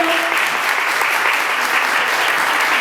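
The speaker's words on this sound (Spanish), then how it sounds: "un aplauso" A crowd at a delegates' assembly claps steadily and warmly for a few seconds, dense applause filling the room with no voices on top.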